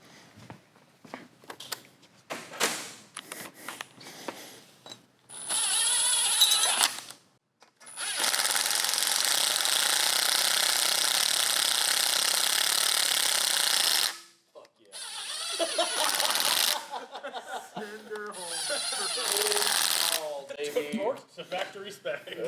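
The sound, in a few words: power tool driving in countersunk engine bolts to torque spec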